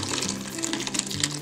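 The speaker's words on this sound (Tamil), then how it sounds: "இப்போது இதை தண்ணி ஊற்றி நல்லா அலம்பிக்கலாம்." Water pours steadily onto curdled milk as it is rinsed while making rasmalai, a short, even, splashing rush at close range with no talk.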